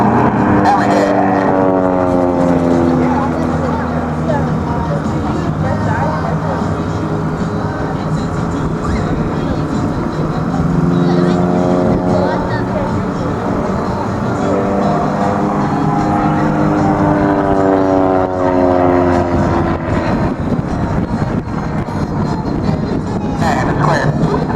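An aerobatic airplane's engine roars steadily through an airshow hammerhead maneuver, its pitch rising and sweeping as the plane climbs and pivots, with a voice talking over it throughout.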